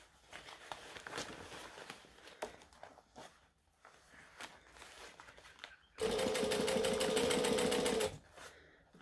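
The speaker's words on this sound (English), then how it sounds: "I'm going to do the top stitching on both sides because it's pretty" Sewing machine running in a steady two-second burst while top stitching a handbag, loud and close, with quieter rustling and handling noises of fabric before it.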